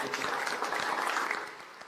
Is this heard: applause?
yes